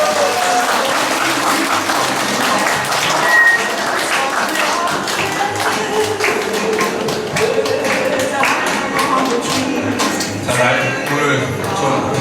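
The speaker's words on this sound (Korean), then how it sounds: "큰 박수 주시기 바랍니다." Audience applause at a Tarasoft and Tara Planet August members' gathering welcoming two leaders to the stage, steady dense clapping throughout with some voices mixed in.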